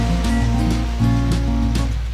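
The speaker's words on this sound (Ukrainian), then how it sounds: "Це пляж Бангпо." Waves at Bang Po beach on Samui island, Thailand, a steady loud wash of surf with soft repeated breaking swells, close and constant, no voices.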